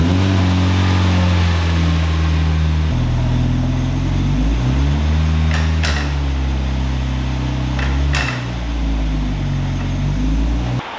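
Turbo Mazda Miata engine running after a differential repair, a loud steady idle with low drone that shifts pitch a few times as revs change, plus a couple of sharp knocks, heard alone up close.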